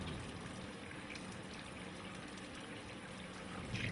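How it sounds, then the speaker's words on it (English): During a surgical scrub, water runs steadily from a tap as hands and arms are rinsed, making a soft, even hiss that stays faint and unbroken throughout. "Rinse hands and arms thoroughly."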